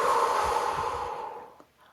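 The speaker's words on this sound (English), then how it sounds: "take a few moments and breathe" A long, slow exhale of deep breathing, close and breathy, fading out gradually into quiet over about two seconds.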